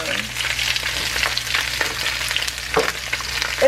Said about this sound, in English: It's like you're frying them.